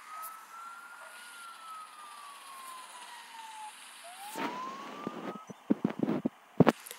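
An emergency vehicle siren wails in the video game Soviet Car Simulator, a slow rising and falling tone that cuts out and restarts briefly, followed by scattered clunks and knocks.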